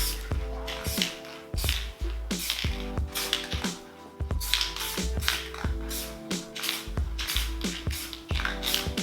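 Rust-Oleum black spray paint hisses from a can in short repeated bursts for spray paint art, each spray followed by the rattle and tap of the can, close and fairly loud in an irregular rhythm.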